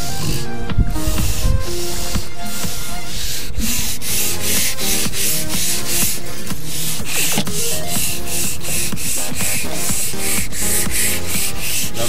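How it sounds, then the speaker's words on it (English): Teak trim on a sailboat being sanded, a steady loud rasping rub with rhythmic strokes filling the whole stretch, no talk. "Anything that's teak, gotta get it sanded down."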